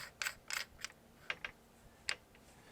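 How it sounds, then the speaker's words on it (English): A barrel insert being threaded into a BT SA-17 paintball pistol makes a few light, close clicks and ratcheting taps in irregular bursts over near silence. "Thread that back in there."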